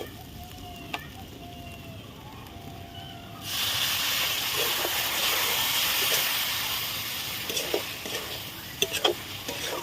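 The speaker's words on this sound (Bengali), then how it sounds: "এবার আমি এটাতে অল্প একটু জল দিয়ে দিব।" Water poured into a pan of pointed gourd dorma sets off a sudden loud sizzle and hiss, following quieter frying with light clinks; the bubbling hiss holds steady and close, with a few scrapes near the end.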